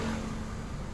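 A car engine in slow, crawling traffic, with the clutch worked while the throttle is eased on, giving a brief, steady, moderately loud mid-pitched engine drone and no talk.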